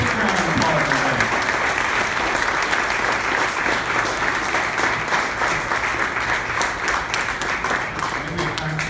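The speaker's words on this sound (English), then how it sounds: "Give me a big round of applause, everybody." A large audience at a hemp business conference in Dallas claps and cheers in sustained, dense applause that stays loud and even from start to finish.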